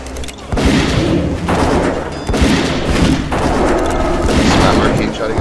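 Hunter's Steady Shot gunfire in World of Warcraft lands as repeated loud booming blasts over dense, noisy battle sounds, with a spoken voice partly mixed in.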